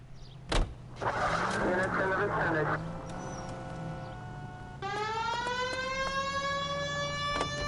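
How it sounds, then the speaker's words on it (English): Police car siren in the video game L.A. Noire switches on after a sharp click and engine hum, first a rapid warbling wail, then a sustained rising and falling siren tone over the running car, with someone speaking briefly. "We have a siren."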